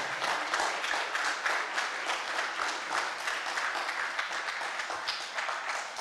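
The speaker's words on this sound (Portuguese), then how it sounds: "Palmas para o Tetractis." Audience applause at WikiCon Brasil 2022 for a Wikipedia editor, a dense, steady wash of many hands clapping throughout, fairly close and even in loudness.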